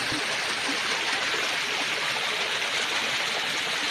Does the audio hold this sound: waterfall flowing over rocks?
yes